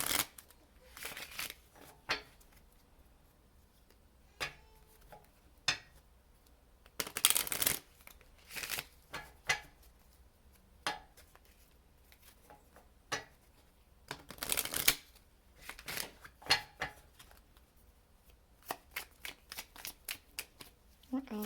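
An Alice in Wonderland oracle card deck is shuffled in short, papery riffling bursts, close and crisp, with quiet gaps between shuffles and a voice talking softly in between.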